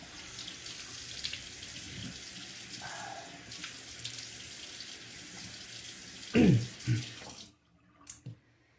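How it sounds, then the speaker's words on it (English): A bathroom tap runs steadily into a sink while rinsing after a straight-razor shave, a continuous rush of water with a few splashes before it shuts off, leaving brief drips and clatter. "Alright, let me rinse up."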